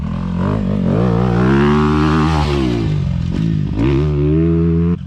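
A motocross dirt bike engine revs up through the gears, rising and falling in pitch with a loud, buzzy close roar that swells, dips briefly, then climbs again, with no talking.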